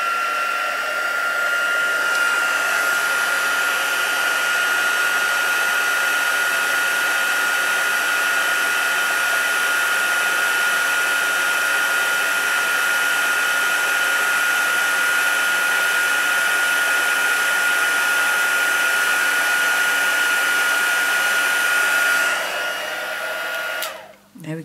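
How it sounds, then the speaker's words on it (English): Heat tool for heat embossing a stamped card, running as a steady, fairly loud whirring blow with a high whine, held for over twenty seconds before switching off. "And then I'm just going to get my heat tool going."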